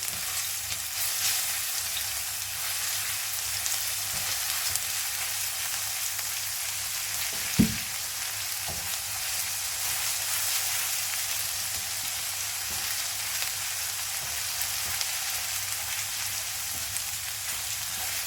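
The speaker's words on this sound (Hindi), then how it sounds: "लहसुन का पेस्ट, थोड़ा सा सौते करेंगे इसे," Garlic paste sautéing in oil in a pan for gobi Manchurian, a steady hissing sizzle like light rain that runs unbroken for the whole stretch, with a single sharp knock partway through and a few faint taps.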